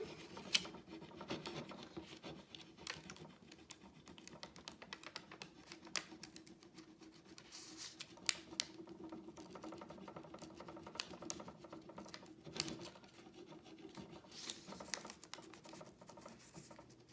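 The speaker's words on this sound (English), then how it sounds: "I'm not rubbing that hard, it's just they transfer so easily when you've got a great surface to transfer on" A dry rasping rub across a wooden welcome sign as a transfer is pressed onto it: a steady, quiet scratching that runs continuously with small irregular ticks, close up and alone with no talk.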